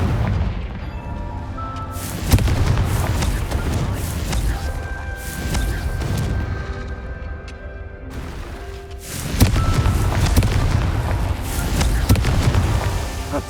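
Repeated Confringo blasting-spell explosions in the video game Hogwarts Legacy: deep booming blasts with whooshing bursts. A dense cluster of detonations comes early, a lull follows, then another loud barrage, all over a steady game backdrop.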